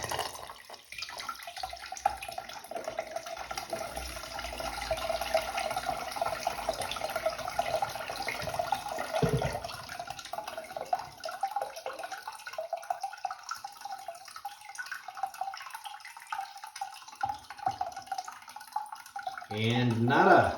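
A toilet with rocks in the bowl flushes as its lever is held down, giving a long watery rush and gurgle. Someone talks over parts of it, and the flow drops away before a last splash at the end.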